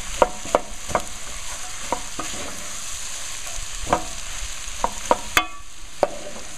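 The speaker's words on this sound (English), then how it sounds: "So now I'm just gonna add my veggies, and I'm gonna saute these up and get them nice and soft." Vegetables sauté in sizzling butter in a pot, a steady bright hiss broken by sharp clinks and scrapes of a spoon stirring at irregular intervals, close and without talk.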